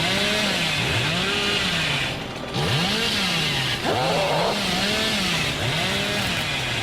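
Leatherface's chainsaw revs in a sprint in the Texas Chainsaw Massacre video game, a loud, close engine whine rising and falling in repeated surges, with a brief dip midway.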